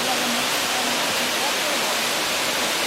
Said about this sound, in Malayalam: കുറേ നല്ല ഹൈറ്റിൽ നിന്നാണ് വെള്ളം ഒഴുകി വരുന്നത്.